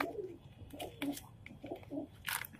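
Soft, low pigeon coos repeat in short rolling phrases, with a brief flutter or rustle near the end; fairly quiet and close.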